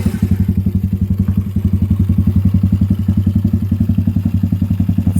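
A custom Honda ATC 70 three-wheeler, the pink Palomino, idles close by on its first test ride, its small engine keeping up a steady, rapid putter with no voices over it.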